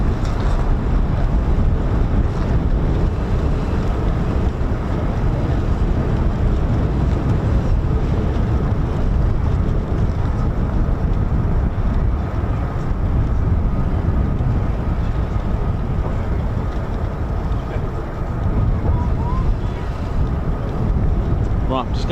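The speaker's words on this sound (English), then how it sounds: "It's a little bit too windy for the flag, unfortunately, so Ted is going to go without." Strong wind buffeting a microphone outdoors at an air force base, a loud continuous roar of rumbling gusts that never lets up, with a voice faintly present underneath.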